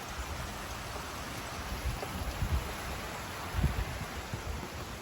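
Rain falls steadily outside on a dark, warm night, a constant soft hiss with a few louder patters and drips standing out.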